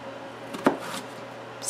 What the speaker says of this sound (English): I've cut jicama up into